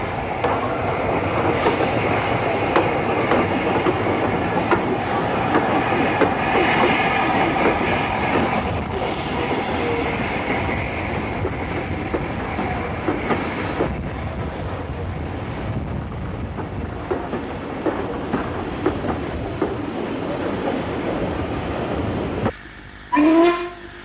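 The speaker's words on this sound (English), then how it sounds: "The crossing service from the south enters Goathland with 30926 Repton at its head." A heritage train hauled by steam locomotive 30926 Repton rolls into Goathland station on the North Yorkshire Moors Railway, a loud, sustained rumble of wheels and carriages with rhythmic clatter, ending with a short burst of a sharper whistle-like sound.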